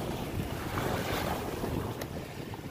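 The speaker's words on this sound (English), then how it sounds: "We got some good wind right here." Wind rushes over a sailboat out on Biscayne Bay, a steady, full blustery roar of air mixed with faint water wash, heard alone without talk.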